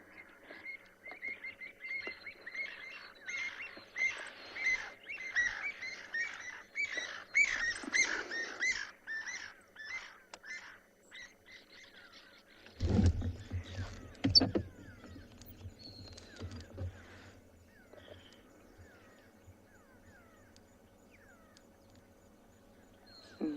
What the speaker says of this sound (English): did you all hear that? I think a harrier hawk was having a bit of a hard time there